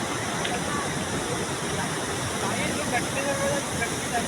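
Floodwater pours over a bridge in heavy rain, a steady broadband rush like a waterfall that holds at the same strong level throughout.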